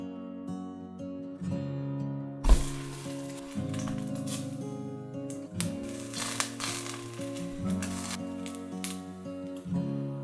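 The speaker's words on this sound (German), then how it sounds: "Die Schweineschwarte ohne Öl scharf anbraten." Pork rind sears in a hot dry pan with no oil, a crackling sizzle with crunchy popping heard close up under background music.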